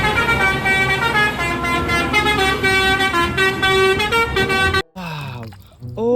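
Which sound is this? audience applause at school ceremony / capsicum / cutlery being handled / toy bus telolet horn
toy bus telolet horn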